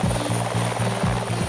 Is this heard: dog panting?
no